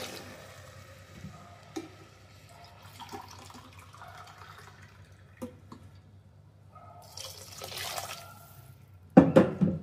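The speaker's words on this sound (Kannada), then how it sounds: "2 ಲೋಟ ನೀರು ಹಾಕ್ತಾ ಇದ್ದೀನಿ." Water is poured from a glass onto one cup of rice in a cooking pot, heard as a couple of short splashing gushes near the end after quiet kitchen background.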